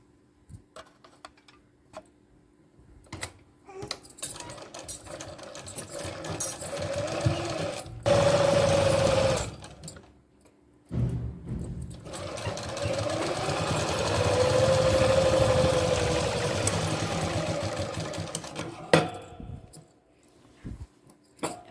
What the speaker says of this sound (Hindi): अब हम एक पट्टी रखेंगे और इस तरह से सिलाई लगाएंगे